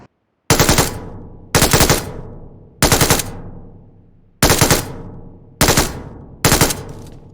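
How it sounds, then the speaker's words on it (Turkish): Six separate bursts of machine gun fire in PUBG Mobile, each a loud, dense rattle lasting about half a second to a second, with short silent gaps between them and no talking. "Bu MG 6x atıyoruz buradan yani."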